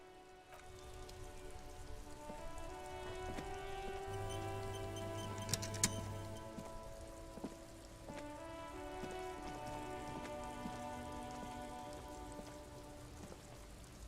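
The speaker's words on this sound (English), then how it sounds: "This rain will not let up anytime soon." Rain falls in the Disco Elysium video game, a soft continuous patter under sustained tonal music, faint and steady throughout with a few sharper drips.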